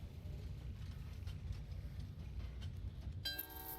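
Trains rumble along the tracks in the railway puzzle game Train Valley 2 on a Bangkok level, a continuous low rolling drone that ends with a bright tonal horn-like blast.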